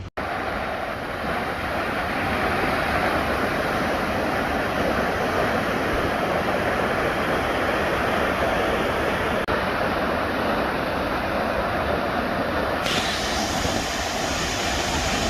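Clear water flowing steadily through a small canal fed by a waterfall in a Norwegian valley near Eidfjord, a continuous broadband rushing wash that stays loud and even throughout, with no voices.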